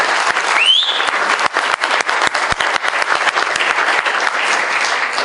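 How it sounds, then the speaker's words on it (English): Crowd applause at the official opening of the Plymouth Art weekend at the University of Plymouth, bright dense clapping with a brief whistle near the start and individual claps standing out. "Round of applause."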